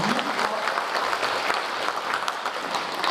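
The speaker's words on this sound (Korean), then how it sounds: "다시 한번 뜨거운 박수 부탁드립니다." Steady, dense applause from an audience at a Korean national memorial ceremony for Patriotic Martyrs' Day, a continuous even wash of many hands clapping with no pause, fairly close and filling the whole stretch.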